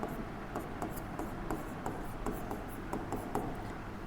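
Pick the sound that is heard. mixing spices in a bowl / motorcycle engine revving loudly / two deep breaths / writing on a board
writing on a board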